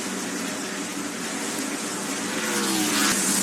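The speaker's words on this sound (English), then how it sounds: "Here's Todd Bodine in the car number 60 trying to get a lap back." Todd Bodine's number 60 NASCAR race car runs laps on track, a steady engine roar with wind and crowd wash, building slightly louder toward the end.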